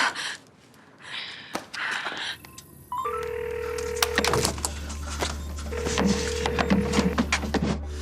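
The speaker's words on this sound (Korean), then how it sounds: "매튜 형 빨리 전화 받아" A phone rings with two long electronic tones over a low steady hum, amid scattered knocks and rustling in a quiet room.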